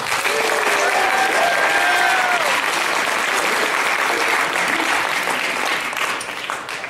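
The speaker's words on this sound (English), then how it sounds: "Let's give a round of applause to all of our guests of honor." Loud, dense applause from a convention audience for the guests of honor, sustained clapping that fades slightly toward the end, with crowd murmur mixed in.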